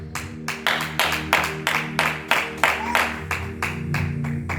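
A church congregation claps in steady rhythmic unison, about a dozen sharp, loud claps in a row over a sustained musical drone, with no one speaking.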